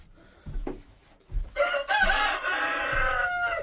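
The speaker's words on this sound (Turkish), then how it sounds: "Tavukları bu bölüme aldım." Chickens cluck and cackle close by, with a rooster-like crow rising in the middle and soft thumps underneath.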